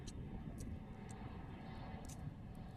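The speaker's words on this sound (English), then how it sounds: "I'm just pausing because of the plane again." A fixed-wing airplane drones steadily overhead, a continuous low engine roar holding level throughout at moderate distance.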